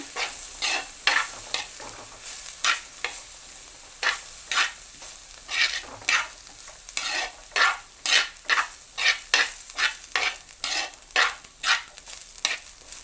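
Kerala-style tuna fish thoran stirred in a pan: a rapid series of rhythmic scraping strokes, roughly two per second, over a light background sizzle, close and clear.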